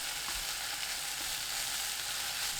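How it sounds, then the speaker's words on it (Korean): Taro stems stir-frying over high heat with scallions in boiling oil give a steady, close hiss of sizzling and crackling, continuous throughout without speech. "지글지글 소리 나면서 기름이 끓으면 토란대 넣어주세요."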